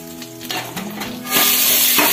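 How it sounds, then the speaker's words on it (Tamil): Chicken pieces dropped into hot oil in a home kitchen, bursting into a loud, close sizzle that swells and stays steady, with frying hiss filling the sound. "இந்த எண்ணெயிலே நம்ம சிக்கன் செஞ்சுப்போம்"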